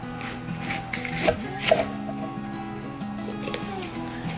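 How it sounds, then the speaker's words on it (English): A knife cuts into a baked, golden spaghetti squash with a few close, soft chopping thuds and scraping rubs, set against a faint steady background hum. "now we're ready to cut into the spaghetti squash"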